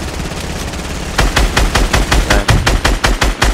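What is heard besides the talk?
sniper gunfire in a shooter video game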